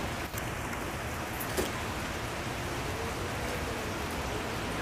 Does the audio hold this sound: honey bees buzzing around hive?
no